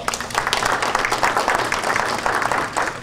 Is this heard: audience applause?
yes